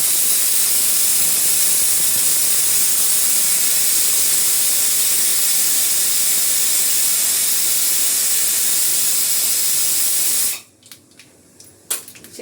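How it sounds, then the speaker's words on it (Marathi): A pressure cooker whistle releases steam in a loud, continuous hiss for about ten seconds, then cuts off abruptly into near silence with a few small knocks. "शिट्टी येत होते म्हणून मी बोलत नव्हते"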